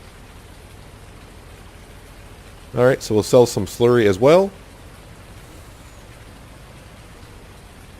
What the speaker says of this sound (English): I'm sure it's going to rain the rest of the day